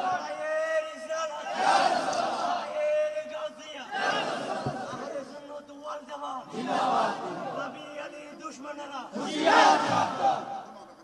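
A large crowd at an outdoor religious sermon gathering in Maheshkhali shouts the Nara-e-Takbir chant, four loud swelling call-and-response roars of many voices spaced a couple of seconds apart.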